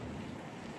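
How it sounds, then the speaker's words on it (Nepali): Cold wind blowing by the sea in Okinawa, Japan, a dense, continuous rush buffeting the microphone with heavy low rumble, loud and close, with no voices. "यस्तो हावा चलिरहेको छ"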